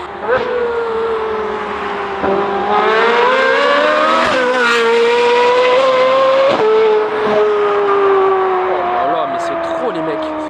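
A Ferrari 458 Italia with a full straight-pipe exhaust roars loudly and close, revs climbing and dropping repeatedly through gear changes in a sustained, high-pitched howl.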